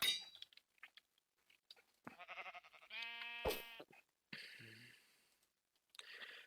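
A lime green sheep in Minecraft bleats a few times, short nasal cries, one long and loud in the middle, separated by quiet gaps and scattered soft clicks.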